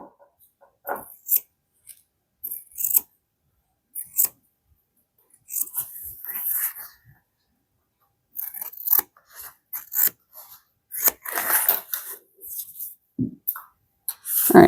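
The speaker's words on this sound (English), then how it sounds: "we are going to trim this bottom edge" Scissors snip and cut through the fabric along the bottom edge of a handbag, in short bursts of crisp shearing and rustling separated by pauses, close and fairly quiet.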